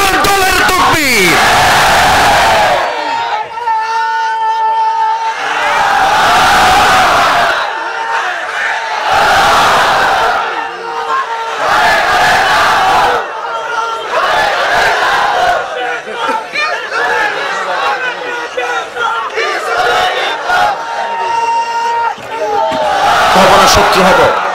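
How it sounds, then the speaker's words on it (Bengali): A large crowd at a religious gathering chants the takbir, Allahu Akbar, in repeated loud surging waves of massed voices, each separated by brief lulls and echoing in an open space. "এই তাকবীর হচ্ছে আল্লাহর দলের তাকবীর"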